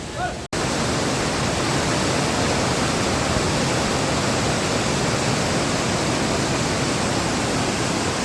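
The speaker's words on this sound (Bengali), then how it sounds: "দারুণ ওয়াটারফলস, প্রচুর জল আছে।" A large waterfall with plenty of water roars loudly and continuously at close range as a dense, unbroken rush that fills the whole clip after a brief cut at the start.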